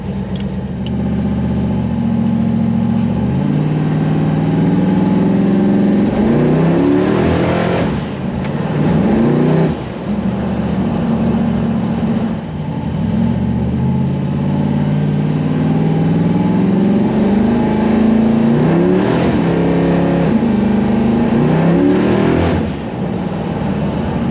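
A twin-turbo Hemi engine drones loudly inside a car on the move. The steady roar swells into several revving surges and eases back, with no talk over it.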